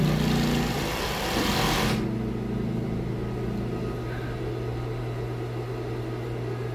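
A W500 piping sewing machine stitches a test seam with a fast, steady mechanical whir that is loud for about two seconds, then drops to a quieter, continuous hum.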